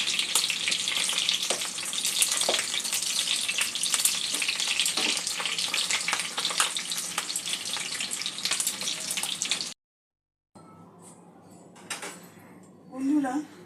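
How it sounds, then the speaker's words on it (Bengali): Fish egg fritters frying in hot oil give a loud, dense, crackling sizzle that runs steadily and then cuts off abruptly, followed by quieter kitchen handling sounds. "এইভাবে সবকটা বড়া আমি ভেজে নেব।"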